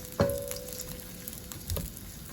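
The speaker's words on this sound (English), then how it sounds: "I'm going to continue frying this in the oil and the ghee" Onions frying in ghee and oil give a soft, faint sizzle, with a couple of brief clinks and scrapes of stirring near the start and toward the end, no voices.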